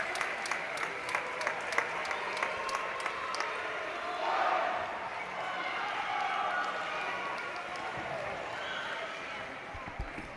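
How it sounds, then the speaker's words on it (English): Crowd applause at a women's European Championship mixed semi-final between England and Austria fills an arena with steady clapping and a murmur of spectators, a commentator talking over it. "And a round of applause for the crowd there."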